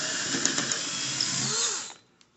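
A power drill with a 15/64 bit bores into a wobbly wooden chair joint, whining steadily for about two seconds before spinning down and stopping, with a few faint clicks after.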